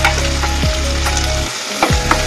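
Finely chopped green chillies and onions fry in hot oil, a dense close sizzle broken by two scraping stirs and a brief dip in the crackle before it surges back.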